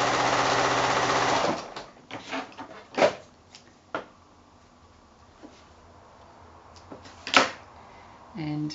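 A sewing machine stitching pairs of 5-inch quilt squares together runs in a steady whir for about a second and a half, then stops, followed by scattered soft clicks and fabric handling nearby.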